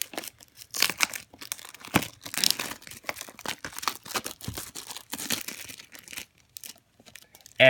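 Crinkly plastic shrink-wrap being torn off a sealed VHS tape, a series of close, sharp rips and crackling bursts with short pauses between them, no voices.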